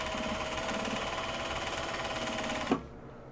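A sewing machine stitching fabric bags runs in a fast, steady whir close by, then stops abruptly with a small clunk just before the end.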